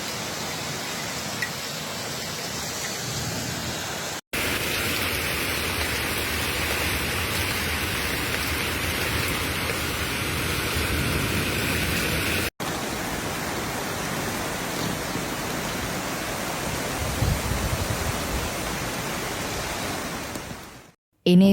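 Heavy storm rain pours steadily over Genoa, Italy during flooding, a dense, continuous roaring hiss of water with no voices and two brief cuts in the sound.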